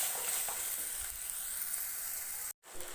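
Tomatoes, peas and carrots sautéing in a pan for veg noodles, with a continuous soft sizzle and light stirring that drops out briefly near the end before resuming, heard alone at low level.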